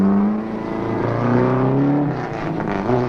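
A car engine revs loudly and close as the accelerator is pressed, its pitch rising and falling in smooth harmonic sweeps for a few seconds, with no voices.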